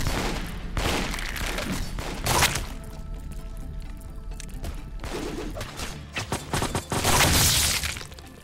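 Rifle squads firing in the management game Lobotomy Corporation, loud bursts of crackling gunfire with sharp shattering hits, coming in clustered volleys separated by quieter gaps.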